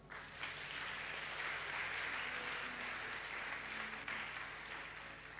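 Congregation at a church service breaking into sustained applause, a dense, even wash of many hands clapping at moderate volume for several seconds.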